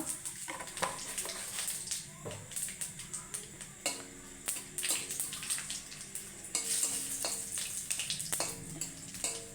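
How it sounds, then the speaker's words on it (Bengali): Moong dal lentils hiss and crackle softly in a hot pan with dried chilli and cumin, with occasional utensil scrapes and clinks against the cookware. "দিয়ে মুগের ডালটা ভেজে নেব"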